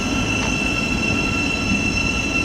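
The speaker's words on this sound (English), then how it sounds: "this is 700 135 from Brighton terminating here" A Thameslink Class 700 electric train from Brighton pulls into Cambridge station to terminate, with a steady, close rumble and a continuous high wheel squeal throughout and no talking.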